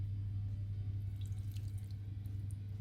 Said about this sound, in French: je verse l'équivalent à peu près de 150 ml d'eau et de fleur d'oranger, mélangés ensemble